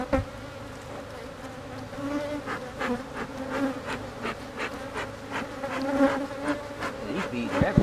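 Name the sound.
bees buzzing around an opened beehive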